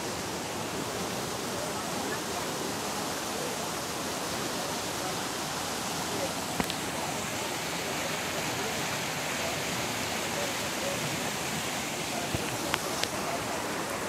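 A fast-flowing river swollen after heavy overnight rain, a steady, loud broadband rush that runs on without a break, with a couple of faint brief clicks near the end.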